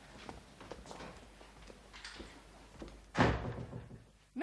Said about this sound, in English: Shut the door behind you.